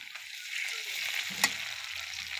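Ginger, cumin and garlic paste fries in oil with reddened onions, a soft close sizzle that swells slightly, with a sharp clink of a utensil against the pan midway and no voices.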